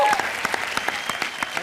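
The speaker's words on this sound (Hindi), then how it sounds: "तो चलिए एक बार जोरदार तालियां हो जाए" Studio audience at a comedy show breaks into dense, lively applause with crisp rhythmic claps over crowd murmur, loud and close, lasting the whole short moment while a voice speaks underneath.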